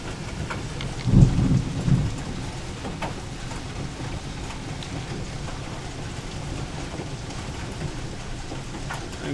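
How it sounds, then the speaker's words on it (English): Big hail about the size of small pinballs falling in a thunderstorm, a steady dense clatter and patter of stones with one louder rumbling burst near the start, no voices. "Oh wait, we do have big hail."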